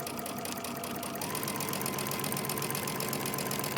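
Sewing machine running a short stitch length along a fabric face mask seam, a continuous fast mechanical whir and rhythmic needle clatter, loud and close, with no talk.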